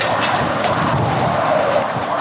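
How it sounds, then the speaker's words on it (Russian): Strong storm wind roars continuously right against the microphone, a loud, rushing, buffeting noise with no pauses. "Чтоб вы понимали, какой тут ветер"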